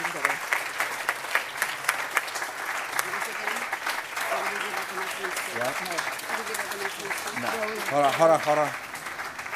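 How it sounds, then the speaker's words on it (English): An audience applauds at a bakery graduation and appreciation event, a steady wash of many hands clapping throughout, with a voice speaking over it and a brief rise in the clapping near the end. "now you can clap"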